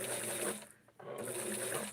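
A sewing machine stitching a Barbie side-shoulder dress, a close steady whirring run that stops for a moment, then starts again and carries on.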